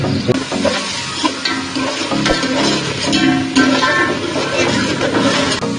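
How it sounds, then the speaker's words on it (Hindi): A masala of tomato, onion and ginger-garlic paste fries in a pan while being stirred for a chicken pulao, giving a continuous loud sizzle with scraping stir noises throughout. "टमाटर, प्याज और अदरक लहसुन का पेस्ट डाल के फिलहाल मैंने मसाला बनाया है"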